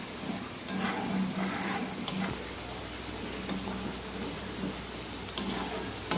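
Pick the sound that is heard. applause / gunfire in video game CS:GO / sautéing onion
sautéing onion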